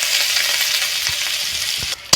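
Two slit green chillies and chopped onion frying in hot oil over a cumin tempering make a loud, even, close-up sizzle that continues briefly before cutting off.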